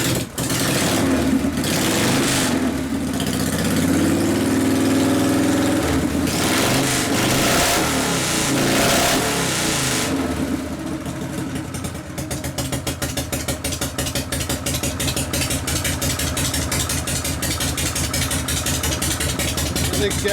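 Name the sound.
1973 Harley-Davidson FX 74ci Shovelhead Super Glide engine running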